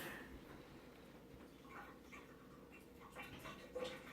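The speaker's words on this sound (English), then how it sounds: "That's my dog" A dog pants in quick, steady breaths close by, a soft continuous huffing with a few faint whimpery squeaks near the end.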